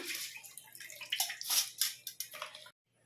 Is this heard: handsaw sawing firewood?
no